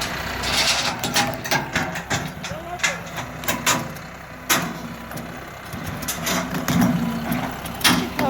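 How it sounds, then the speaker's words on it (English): A heavy tractor engine rumbles steadily throughout, with clanks and knocks of a big chain and people talking over it. "it's moving the tractor"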